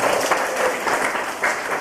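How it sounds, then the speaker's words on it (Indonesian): Crowd applause in a worship service held at a women's prison, a steady wash of many hands clapping at moderate loudness, continuous and without a break. "Tepuk tangan."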